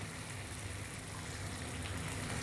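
Half a cup of water poured into a pan of keema matar, minced meat and peas cooking on the stove, giving a broad steady hiss and splash without pause, close and fairly loud.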